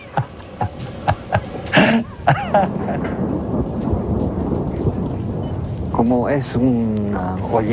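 A thunderstorm with heavy rain over La Paz, rain hissing steadily while sharp close thunder cracks and rumbles break through, with talking heard over the storm.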